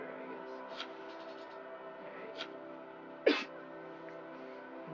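A single sharp sneeze bursts out about two-thirds of the way through, near and fairly loud, over a quiet indoor museum hum with a couple of faint vocal sounds earlier.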